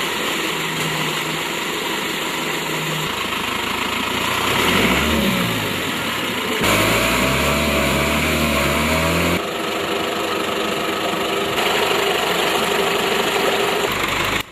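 A Toyota vehicle engine drones and revs for a long stretch while stuck in the Amazon jungle, pitch rising and falling as it strains, loud and close with shifting mechanical whine.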